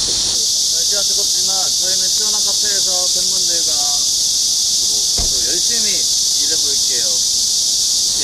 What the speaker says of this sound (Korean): 매미가 저희를 환영해 주네요.